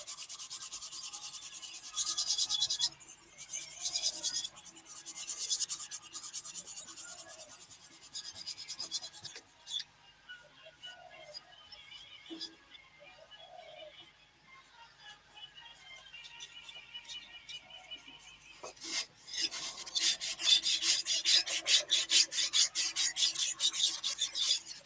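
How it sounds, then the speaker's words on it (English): Rough, calloused hands rub and sand a piece of wood, making dry scratchy rasping strokes in uneven bursts with short pauses between, close and fairly quiet. "See, my skin's so rough, it's sanding the wood."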